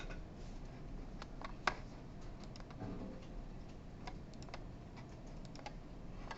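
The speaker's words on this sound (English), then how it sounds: "I can just type in x times y up here" Typing on a computer keyboard during a programming lecture: faint, scattered key clicks and a brief louder tap over a low steady room hum, with no talking.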